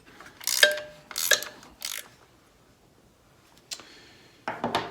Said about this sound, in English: I'm just going to put a little pressure on these nuts here just to draw the head of the bolt all the way into the pocket